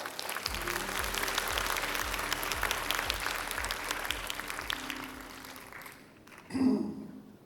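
An audience applauds warmly to welcome a professor to the stage at a design conference, with steady clapping that fades out near the end before a brief louder sound.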